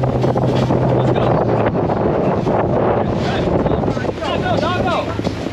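A motorboat engine running at speed on open water, a steady, loud hum under heavy wind buffeting against the microphone, with voices talking and shouting over it.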